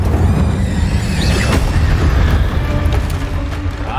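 The Incendio fire spell goes off in Hogwarts Legacy, a loud continuous roaring, booming blast with crackling bursts that stays dense for the whole stretch.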